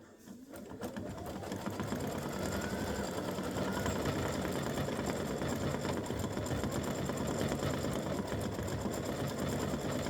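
Embroidery machine stitching a design onto a football helmet motif for a mug rug, a steady rapid mechanical chatter that starts up and then runs continuously at close range, with no voices.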